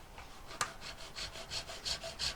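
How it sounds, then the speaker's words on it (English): A saw fitted with a wax work blade cuts a corner off a block of wax, a soft, quiet, rhythmic rasp of back-and-forth strokes, about a dozen, close by and without talk. "I'll just cut into it. I'll just cut a corner off, shall I?"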